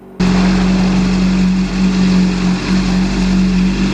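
Honda CBR600RR motorcycle engine held at high revs near 7,000 RPM, a loud steady close drone that starts abruptly and holds with slight wavering, no talk.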